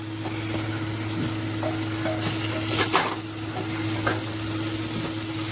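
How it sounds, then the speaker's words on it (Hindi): Arbi (taro root) being stir-fried in a pan, with continuous sizzling, scraping stir strokes and a few light utensil clinks, close and steady with no talk. "तो अब इसको भुइया को हम इसे भूनेंगे।"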